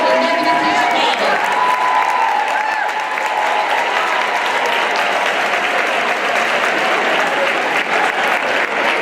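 A conference audience of sorority members in Chicago gives itself a standing ovation, steady, loud clapping filling the room without a break, with a few cheers mixed in.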